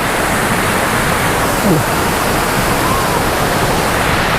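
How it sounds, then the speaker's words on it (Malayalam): Loud, steady roar of rushing water from a nearby waterfall in Adimali, Idukki, constant and unbroken throughout. "എങ്ങ് നോക്കിയാലും വെള്ളച്ചാട്ടം."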